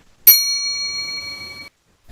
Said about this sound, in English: I tried to make it the most polite version of a bell I could find.